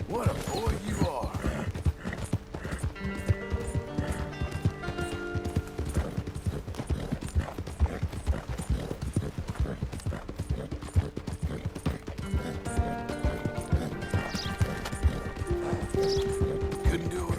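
Rapid hoofbeats drum steadily throughout as a horse gallops in the video game Red Dead Redemption 2, with music and occasional voices layered over the constant rhythmic pounding.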